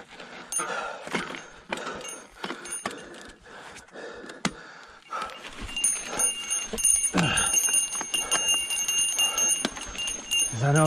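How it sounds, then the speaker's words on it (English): A mountain bike bell jingles repeatedly on a downhill trail off Dirt Mulholland in the Santa Monica Mountains, its bright metallic rings scattered over tire rumble and trail noise, with a brief gasp mixed in. "I'm gonna keep my bell on to alert anybody that might be hauling ass down here without one."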